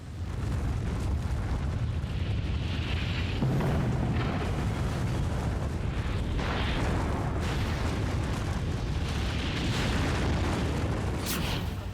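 A nuclear bomb explosion unfolds as a continuous, loud, roaring rumble with rolling bursts and booms, dense and sustained for the full length, with no voice.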